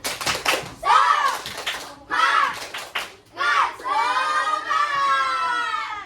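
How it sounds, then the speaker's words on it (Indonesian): A group of children in a classroom performs a tepuk semangat rhythmic clapping chant, with loud voices chanting in bursts and sharp claps mixed in close by. "kita tepuk semangat dulu"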